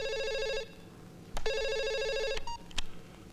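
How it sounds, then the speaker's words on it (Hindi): An old-style telephone rings in two loud, steady electronic trills close by, separated by a brief gap, with a few clicks at the end and no voices. "फोन आएगा खुद समझ में आ जाएगा आपको।"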